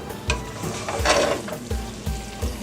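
Onions sizzling and frying in a pan on medium-high heat for Haitian-style spaghetti and hotdogs, with a steady crackling hiss broken by several soft scraping stirs and clacks of the utensil against the pan, close up.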